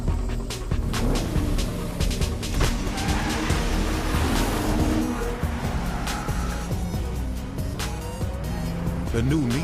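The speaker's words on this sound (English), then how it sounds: "The new Nissan Maxima, the four-door sports car that's raw, refined, and all you." A Nissan Maxima four-door sports car drives at speed, its engine and tires loud and continuous, with brief tire squeal, all mixed under music and a narrating voice.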